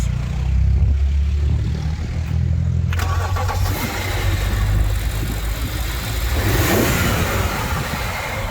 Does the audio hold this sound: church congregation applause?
no